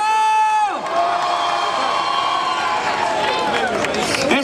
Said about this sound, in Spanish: Propoño vos a todos dar un aplauso grande de benvida á festa do Eixo esta noite.